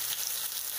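Turmeric and asafoetida dropped into hot oil for a vegetable bhaji, giving a brief bright hiss and crackle of frying, close and steady for under a second.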